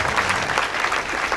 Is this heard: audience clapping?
yes